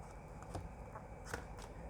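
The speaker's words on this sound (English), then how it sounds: "Go ahead and give it a nice little shuffle." A Yu-Gi-Oh card deck being shuffled, with soft riffling bursts and a few sharper card snaps over quiet background hiss, close and brief.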